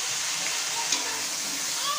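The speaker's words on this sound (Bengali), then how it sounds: "এরপর ওই জিরে ফোড়নটা ভালোভাবে ভাজা হয়ে গেছে। এরপর আমি মশলাটা ওর মধ্যে দিয়ে দিচ্ছি, জিরে ফোড়নের মধ্যে" Cumin seeds tempering in hot oil sizzle steadily as a spice paste is added and fried for a river kokila fish curry, a close, even hiss with faint stirring and no talk.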